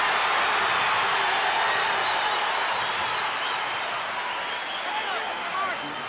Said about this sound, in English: And now the crowd at Carver Hawkeye is alive.